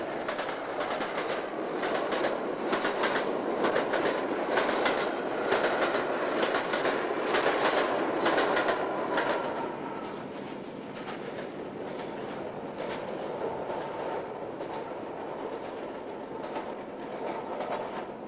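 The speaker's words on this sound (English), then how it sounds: "Here, D180 holds the traffic with the Newcastle-Liverpool via Sunderland and Stockton." The D180 diesel locomotive passes an A19 level crossing on the Newcastle-Liverpool line via Sunderland and Stockton, a loud, steady rumble with rhythmic wheel clatter that fades slightly as the train moves on, with no voices.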